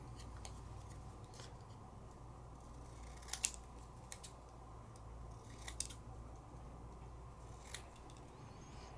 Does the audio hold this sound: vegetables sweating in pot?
no